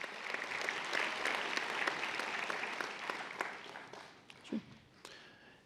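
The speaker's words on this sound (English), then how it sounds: "Let's give the round of applause for our PhD graduates one more time." Audience applause at a nursing school spring convocation honoring PhD graduates, a dense crowd clapping steadily for several seconds before thinning into scattered claps and a brief voice near the end.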